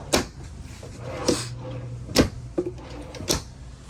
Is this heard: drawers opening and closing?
yes